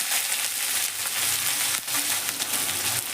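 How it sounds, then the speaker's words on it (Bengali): Onions hit hot white oil in a wok and sizzle loudly and continuously, with a bright hiss and a brief dip as they are stirred. "তেলটা আমার ভালো করে গরম হয়ে গেছে। এবার আমি এর মধ্যে দিয়ে দিচ্ছি পেঁয়াজ।"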